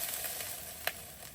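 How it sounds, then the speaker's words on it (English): Bacon fries on a camp stove burning a fuel puck, a faint, steady sizzle with one brief sharper pop, heard alone. "at this point I'm pretty confident the bacon is going to be completely cooked"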